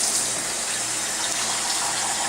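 Three quarts of water gush steadily into a container for kosher dill pickle brine, a loud continuous pour with no pauses or talk.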